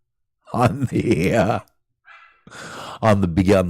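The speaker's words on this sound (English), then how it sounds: "They're just barking." Dogs barking indoors in a home, several loud close barks in quick bursts with a short gap, mixed in with someone talking.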